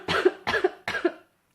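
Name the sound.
cough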